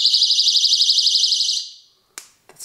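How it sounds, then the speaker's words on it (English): A personal self-defense alarm shrieks loudly after its pin is pulled, a piercing warbling electronic siren pulsing rapidly for about a second and a half before fading, followed by two short sharp clicks. "To sound the alarm, you pull this from here."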